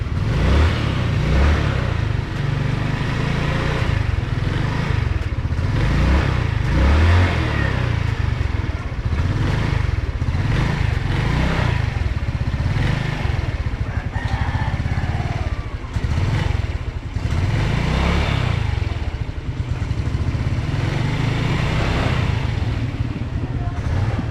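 A motorcycle engine with a new battery idles loud and close with a rough, pulsing throb that swells and dips, while a voice talks now and then over it.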